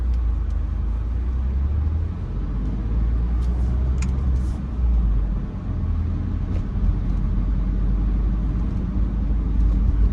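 Steady car engine rumble and road noise while driving through residential streets of the Frankford neighborhood in Philadelphia, continuous and close with no talk.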